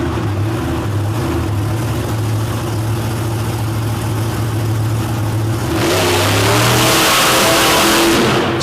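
A 2041 Willis truck with an Oldsmobile engine, running at a Madison motorsport show, holds a steady loud engine note, then revs hard and accelerates off the line with a roaring surge near the end.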